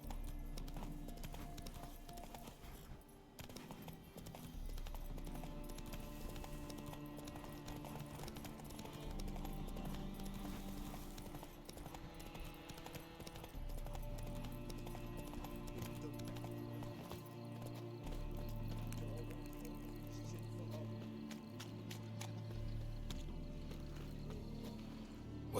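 Hooves of a horse in The Witcher 3 video game clop in a fast, steady galloping rhythm, mixed with soft game music and ambient tones, fairly quiet overall.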